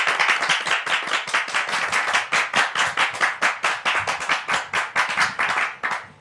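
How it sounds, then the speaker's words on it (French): A live audience claps steadily for several seconds, dense rhythmic applause welcoming a guest, fairly close and loud with no voices over it. "Merci de le recevoir donc sous vos applaudissements"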